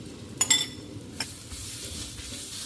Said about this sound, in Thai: ผัดตัวพริกแกงให้หอมนะคะ